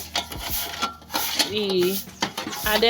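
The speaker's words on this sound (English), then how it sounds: "this is me washing this pot without anything, no soap, nothing" A cooking pot is scrubbed by hand with bare hands and water, no soap, giving repeated scraping and rubbing strokes with a few light metallic knocks, close by.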